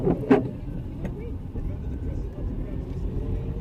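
Car interior sitting in slow morning traffic on a dark day, a steady low engine and road rumble running throughout, with a couple of brief knocks near the start.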